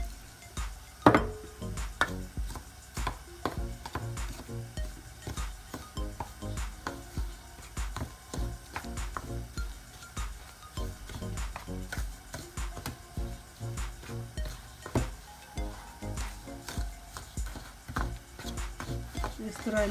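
Gulab jamun mixture being stirred as milk is added, giving continuous soft scraping and light clinks of a spoon against the bowl with no talk over it.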